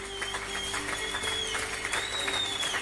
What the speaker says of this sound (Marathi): सोसायटीतील सगळ्यांनीच टाळ्या, थाळ्या आणि शिट्ट्या वाजवून त्याचं जंगी स्वागत केलं